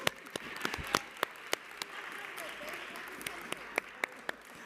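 Scattered applause in the New York City Council chambers at City Hall for a councilmember's birthday, with a few sharp individual claps standing out over a soft, thin wash of hand-clapping from a modest crowd.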